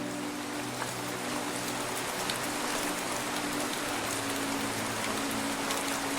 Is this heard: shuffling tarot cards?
no